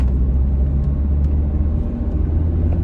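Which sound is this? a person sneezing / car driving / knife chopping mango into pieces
car driving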